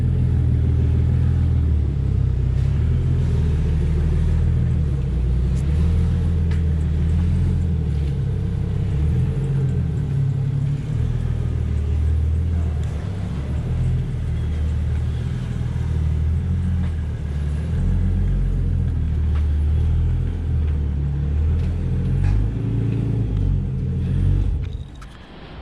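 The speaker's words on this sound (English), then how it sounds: "It's one of the cars Lando's working on" A car engine runs in a workshop during a GS build, a loud, steady, deep rumble close by with slight rises and falls, cutting off at the very end.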